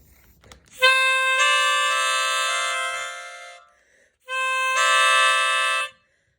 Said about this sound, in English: This is called a melodica.